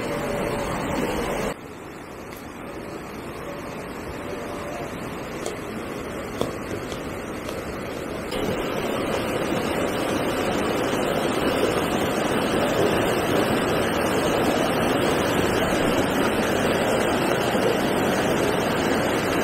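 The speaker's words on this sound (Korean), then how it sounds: "개울물도 멋있네. 흘러가는 게 아주 힘차요." A mountain stream near Magoksa temple in Gongju rushes strongly in a steady, dense, close roar, growing fuller and louder partway through, with no voices.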